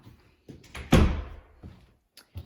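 Coat closet door beside a front door opening with a single solid thunk, followed by a couple of lighter knocks and rattles, close and fairly quiet indoors.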